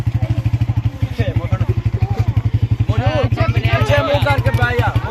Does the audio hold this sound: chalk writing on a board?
no